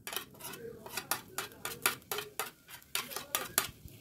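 A spoon spoons mango pulp into a pan on a lit gas stove, tapping and clinking against the metal in a quick, fairly regular series of about a dozen sharp, close hits; no talk.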